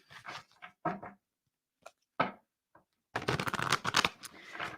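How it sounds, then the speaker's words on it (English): A deck of cards is shuffled in quick riffling bursts, close and fairly quiet, with brief pauses between runs and a longer, denser burst near the end. "I got to really shuffle this because I saw a specific card that I tried to hide back in the deck, and Michael said, stop cheating."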